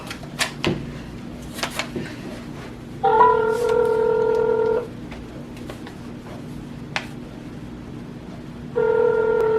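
A phone ringback tone sounds twice during an outgoing call to a friend, each steady ring lasting about two seconds with a long gap between, over quiet room noise with a few soft clicks.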